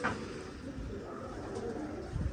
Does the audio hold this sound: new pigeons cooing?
yes